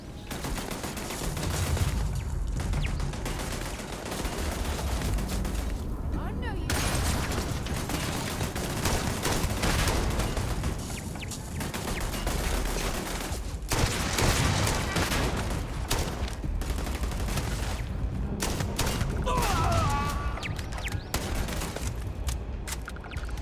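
Close-range gunfire in the Starfield video game: dense, loud bursts of rapid shots and booming impacts hammer almost continuously, with only brief lulls between volleys.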